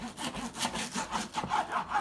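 A knife sawing through the brisket bone of a raw rack of pork spare ribs, heard as quick, rhythmic back-and-forth rasping strokes, close and fairly quiet, with no talk.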